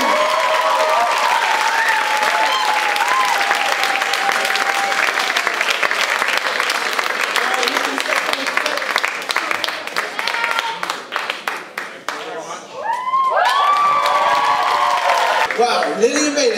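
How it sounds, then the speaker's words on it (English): Loud, sustained audience applause fills a hall at a judged stage performance event, dense clapping with a brief dip partway before swelling again, and a voice speaks over it. "Give a round of applause as they're up here to receive."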